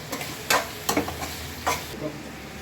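Cooked rice being mixed with turmeric by hand or spoon in a pot, heard as a few distinct scraping stirs with soft rustling between them, close and fairly quiet, with no talking.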